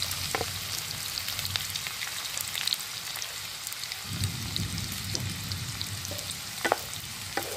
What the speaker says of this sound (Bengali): হালকা লাল করে কিন্তু এই পেঁয়াজগুলোকে ফ্রাই করে নিতে হবে।